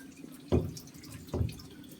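Water drips from a leaking 1989 Universal-Rundle toilet tank as it refills: two distinct close drips about a second apart over a faint background trickle.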